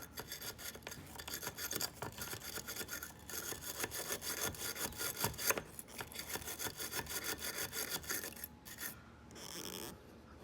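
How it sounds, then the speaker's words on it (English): Rapid scraping and rubbing against a stainless steel part of a 1994 Mercedes C280 W202 driver side mirror housing to scratch away oxidation, a close, busy rasping that pauses briefly near the end. "Try to scratch away some of that oxidation on that stain."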